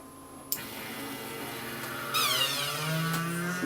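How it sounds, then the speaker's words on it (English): An electric pump clicks on and settles into a steady mechanical whine as WD-40 runs through a hose into a Tupperware tub, and its pitch climbs once the liquid starts flowing. "I also want to show how powerful this pump is just by putting the hose end into a Tupperware tub"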